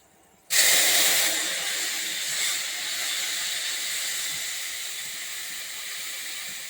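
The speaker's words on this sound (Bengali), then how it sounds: "এবার দেব সর্ষে বাটার জলটা, এই দেখো।" Mustard paste water poured into a hot pan with black cumin seeds, a sudden loud hiss bursting in and settling into a steady sputtering sizzle, no voices.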